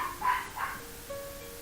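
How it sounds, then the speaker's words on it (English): A poodle barking in the background, two short muffled yips followed by a faint whine, fairly distant in a quiet room. "My poodle's gonna probably keep barking in the background."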